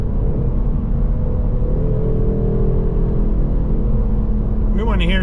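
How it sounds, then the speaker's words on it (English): A 2024 Ford Mustang GT Premium's engine and exhaust drone loud and steady from inside the cabin, a continuous low rumble with rising revs near the end. "A little stang action with the exhaust."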